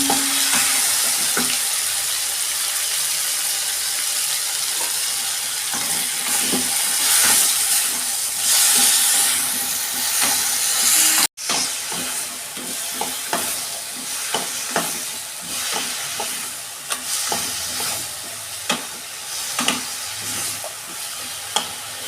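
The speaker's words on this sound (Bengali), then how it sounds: "এই যে আমি সবজিগুলো দিয়ে দিচ্ছি।" Sliced snake gourd sizzles and fries in a home pan, a dense continuous hiss with frequent scraping stir clicks, loud and close, with one brief cut partway through and no talking.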